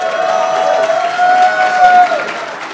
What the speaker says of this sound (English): Everyone, please give him a round of applause.